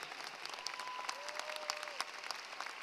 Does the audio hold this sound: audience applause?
yes